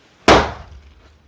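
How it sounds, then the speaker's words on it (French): The door of a refreshment stand is slammed once, a single sharp bang that decays quickly, close and alone. "si on claque la porte, ça fait comme ça"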